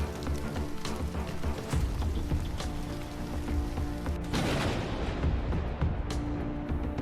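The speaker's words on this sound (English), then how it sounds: "At midnight, the sky opened and a divine rain turned the dust into mud." Heavy rain pours steadily in a dense, continuous wash, with a burst of louder downpour midway through and no voices.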